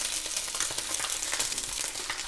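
Continuous crackling sizzle of chicken meatballs frying in a hot pan on low heat, steady and close, with no talking.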